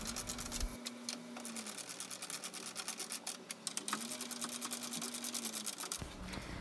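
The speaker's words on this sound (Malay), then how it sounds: "kita ketatkan menggunakan ratchet dan soket size 10" Ratchet with a size 10 socket tightening screws while refitting a radiator fan motor on a Proton Exora CFE Turbo, giving steady rapid ticking clicks close by with a low hum behind, no talk.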